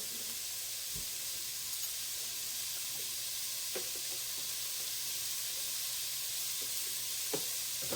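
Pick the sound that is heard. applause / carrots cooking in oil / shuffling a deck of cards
carrots cooking in oil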